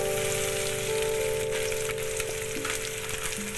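Vegetables and salted eggplant frying in fish oil in a pan, a steady close sizzle and crackle with small pops, alone with no talk.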